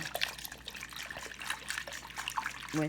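Fingers swishing sourdough starter through room-temperature water, giving soft, close trickling and sloshing splashes in an uneven rhythm, heard alone without speech.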